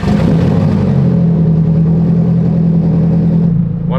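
SR20-swapped Nissan S14 drift car engine running loud and close: a steady, throaty idle hum that holds through several seconds, then a quick rise at the very end, with no talking.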